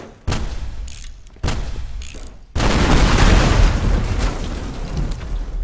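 A few separate booming blasts go off in the video game Teardown, then a sustained chain of loud explosions and crackling debris rumbles on for several seconds.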